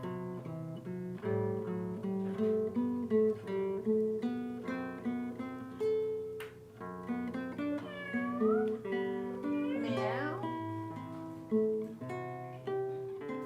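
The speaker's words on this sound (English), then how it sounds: "Show off. Meow. Yeah, meow. Meow." A cat meows repeatedly in a rhythmic series of clear, tonal calls, some drawn out and rising, close and alone.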